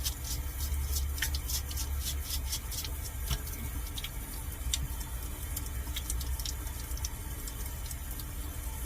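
Running water splashes and trickles steadily over a soft, hollow-backed stone piece as it is rinsed off, with scattered close drips and small splashes over a constant wash of flow.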